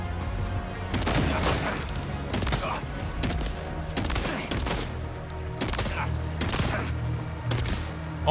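Rapid bursts of gunfire from the video game Death Stranding 2, loud and dense, with repeated volleys roughly every second over a busy combat soundscape with booming low rumble.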